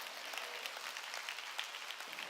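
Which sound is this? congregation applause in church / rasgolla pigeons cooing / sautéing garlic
congregation applause in church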